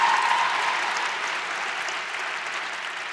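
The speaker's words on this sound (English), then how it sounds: "So you guys are like half clapping." Audience applause fills a lecture hall in a steady, dense wash of clapping that starts strong and tapers slightly, sounding fairly close with no speech over it.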